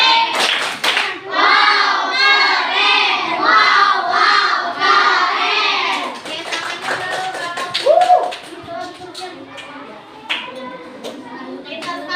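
Schoolchildren in a classroom clap out a rhythmic group clap chant, with rapid dense hand claps and loud mixed voices chanting together, then fading into scattered taps and chatter.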